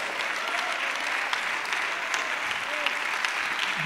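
A church congregation at a Sunday school service claps steadily in loud, dense applause that holds at an even level throughout.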